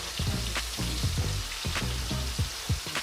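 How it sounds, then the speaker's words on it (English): Shallot rings dusted with flour crackle and sizzle in hot frying oil, a busy spattering hiss with small pops, steady and close, no voices. "then I'll get them right into this oil to fry up until they're nice and crispy"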